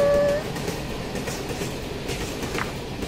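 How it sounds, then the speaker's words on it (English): A train moves along with a steady rolling rumble and faint rail clatter, a short horn-like tone at the start, then continuous mid-level running noise. "So the train is moving now!"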